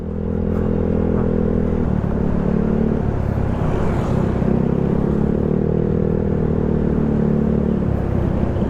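A motorcycle on a road in Banyaga, Agoncillo, Batangas idles close by with a loud, steady engine drone, then revs with rising and falling pitch; no voices are heard.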